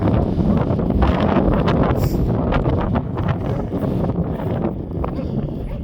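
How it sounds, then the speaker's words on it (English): Strong wind buffets the microphone with a constant roaring rumble, gusting throughout, with muffled voices faintly underneath. "it's very, very windy"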